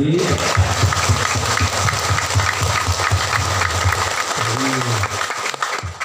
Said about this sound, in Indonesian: mari kita tepuk tangan senyum ramah